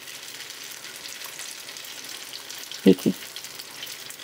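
Snack batter fries in a pan on a low flame with a faint, steady crackle, broken by two brief knocks near the end; a voice speaks briefly.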